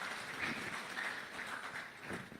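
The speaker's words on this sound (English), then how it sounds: "I think we can give them a round of applause." Audience applause for the panelists at a Ghana national policy dialogue on elections, a sustained crowd clapping that swells slightly and fades toward the end, heard alone without speech over it.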